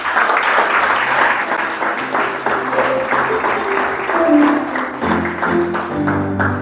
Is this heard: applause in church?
yes